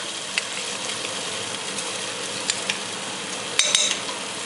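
Khichuri ingredients frying in a pot give off a continuous sizzle, with a few faint stirring clicks and a brief metallic scrape near the end, close and without speech.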